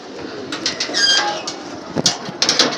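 Pigeons released from their loft coo and flutter nearby, soft throaty calls and brief wing bursts in short irregular clusters over quiet background hiss.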